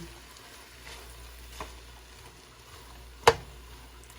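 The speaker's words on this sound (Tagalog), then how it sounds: "Ginigisa ko pa yung corn." Corn kernels sautéing in a pan give a low, steady frying sizzle with a few soft stirring knocks, and one sharp clack of a utensil near the end.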